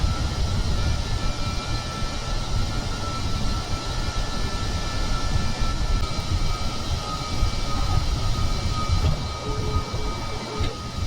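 Aircraft engine drone during a landing approach to the island runway in Kerbal Space Program, a steady, loud, continuous rumble and whine with no talk over it.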